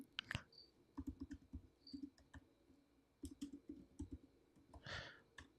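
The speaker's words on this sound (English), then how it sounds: "I'm not the fastest typer, so bear with me." Slow, uneven typing on a computer keyboard, with scattered soft key clicks in short bursts and pauses, close and fairly quiet, ending in a louder rustle.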